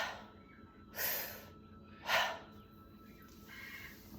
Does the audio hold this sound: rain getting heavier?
no